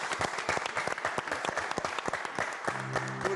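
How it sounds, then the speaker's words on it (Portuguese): Studio audience on a Portuguese afternoon TV show applauds a mother, dense rapid clapping from many hands, loud and sustained, with a brief tone near the end. "uma salva de palmas para esta mãe"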